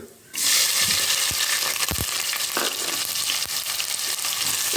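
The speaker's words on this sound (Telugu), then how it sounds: "ఇప్పుడు ఆనియన్స్ వేస్తానండి" Onions tipped into hot oil with whole spices (cardamom, cloves, cinnamon, shahi jeera) for keema pulao burst into a loud, steady sizzle, with a few stirring clinks of a spoon against the pan.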